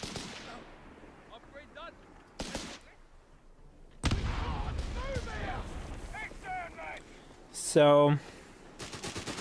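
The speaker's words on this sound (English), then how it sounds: "Enemy infantry getting shot, see that?" Bursts of machine-gun fire and loud blasts on infantry in the strategy game Company of Heroes 3, with a heavy barrage in the middle and a long rattling burst near the end, under brief commentary.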